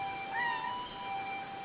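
A small cat gives one brief, faint, high meow in a quiet room, with a steady thin electronic whine running underneath.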